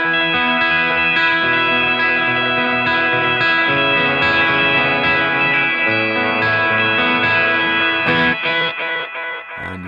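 Holy Era tap-tempo delay pedal with a pitch shifter in its effects loop, blend set fully affected, giving a dense, continuous wash of shifted, chorused guitar tones with echoing tails, loud and sustained throughout.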